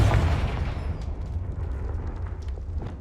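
The Confringo explosive spell from Hogwarts Legacy goes off as a loud, close blast with a deep rumbling low end, followed by a sustained crackling, roaring tail that fades only slightly over a few seconds.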